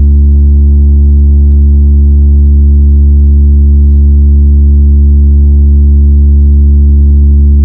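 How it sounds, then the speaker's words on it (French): A bass test tone on a Beats Pill 2024 speaker, a loud steady low hum with layered harmonics held without a break, where a faint plastic rattle may ride on the tone. "avec le petit test de basse, et bah en fait il y a un bruit de plastique là"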